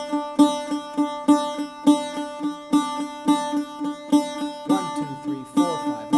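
Bouzouki picking a steady repeating bar of five with a triplet followed by a double, bright plucked notes over a ringing drone, played alone and evenly.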